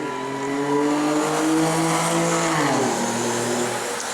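Race car engines at spectator match races in New Smyrna roar loudly off the line after the green flag, pitch climbing and then dropping with a gear change as they accelerate away, sustained and close.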